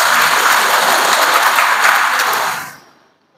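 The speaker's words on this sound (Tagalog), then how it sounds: "Palakpak atong Ginoo." A church congregation applauds during a Catholic Mass at a parish, a dense, steady roar of clapping that holds loud for over two seconds, then fades quickly away to silence.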